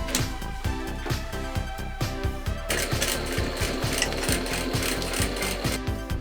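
Sewing machine stitching a nylon strap onto a homemade bikepacking stem bag, a steady rapid mechanical chatter of needle strokes running continuously and close, with no talking.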